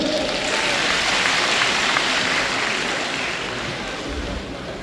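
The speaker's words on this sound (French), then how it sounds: "Acclamez-le." An audience at an official installation ceremony in Benin bursts into sustained, loud applause, a dense and even wash of clapping that holds for several seconds before easing slightly toward the end.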